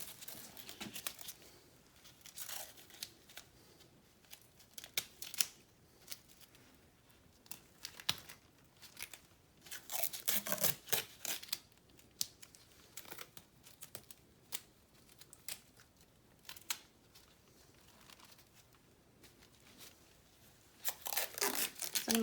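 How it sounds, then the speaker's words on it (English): Medical tape tearing and crinkling in short bursts as it secures an abdominal wound pad, close and fairly quiet, with rustling of dressing materials between the rips. "we're going to secure it with some tape"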